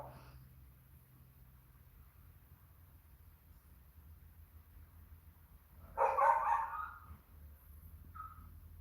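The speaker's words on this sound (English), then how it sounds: "My neighbor's dog is barking." A neighbor's dog gives one short, faint bark from some distance in an otherwise quiet room, followed a moment later by a softer brief yip.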